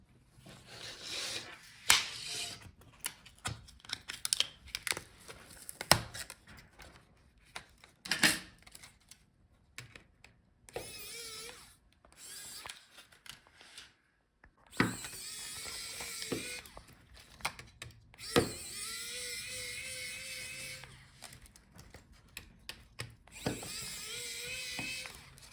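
Work on a Lenovo IdeaPad 5 laptop to free the touchpad: irregular clicks, snaps and scraping taps of plastic and metal parts, interrupted by bursts of whirring, drill-like tool noise, all close up with no voices.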